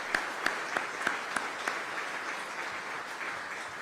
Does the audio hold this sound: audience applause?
yes